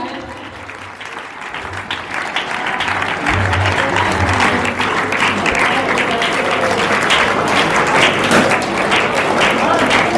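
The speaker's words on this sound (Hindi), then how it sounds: "उनके स्वागत के लिए जोरदार तालियां हो जाए" An audience at a Teachers' Day tribute event breaks into loud, sustained clapping to welcome a guest onto the stage. The applause builds after the first second and stays dense and even to the end.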